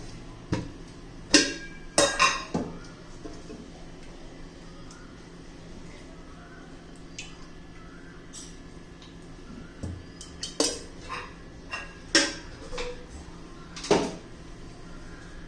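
A spoon stirs eggless semolina mango cake batter with ghee in a bowl, making scattered close clinks and scrapes in small bursts separated by quiet stretches, with faint kitchen background.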